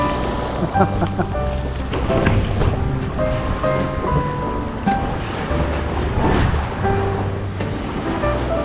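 Loud rushing water churns and splashes continuously, a dense, steady roar of waves close by with faint tonal hum in the background.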